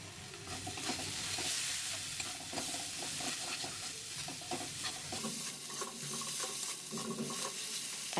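Ground coriander, cumin and chili powder fry in oil in a pan while being stirred continuously: a dense, loud sizzle runs throughout under rhythmic scraping of the spoon, close by and with no talking.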